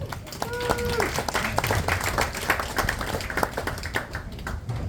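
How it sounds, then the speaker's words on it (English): A group claps for itself at an outdoor Conch Republic hurricane flag burning gathering, scattered hand claps mixed with crowd murmur and a brief whistle-like tone near the start. "So give yourself a round of applause."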